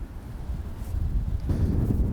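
Wind gusting across a golf course, low buffeting rumble against the microphone that swells louder midway and stays strong to the end.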